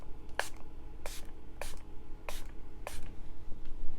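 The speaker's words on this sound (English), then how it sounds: "No, this is setting spray" Setting spray misted onto a face during corpse bride makeup, heard as five short, bright aerosol bursts spaced about half a second to a second apart, close up over a low background hum.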